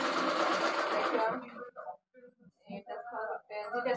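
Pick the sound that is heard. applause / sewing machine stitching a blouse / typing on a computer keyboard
sewing machine stitching a blouse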